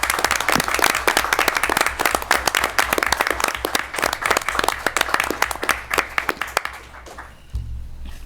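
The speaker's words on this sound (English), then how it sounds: "big round of applause and thank you for your service to the community" An audience at a city council meeting gives sustained applause, with many hands clapping steadily at close range before it quickly dies away.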